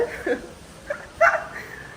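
A puppy gives several short, soft whimpers and yips in a quiet indoor setting, close to the listener, with brief pauses between the cries.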